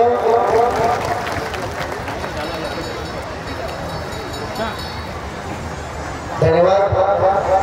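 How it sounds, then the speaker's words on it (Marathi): A crowd at a formal ceremony applauds to welcome a guest, a steady wash of clapping under continuous talk, with the applause swelling louder near the end. "सर्वांनी जोरदार टाळ्या वाजवून साहेबांचे या ठिकाणी स्वागत करावं."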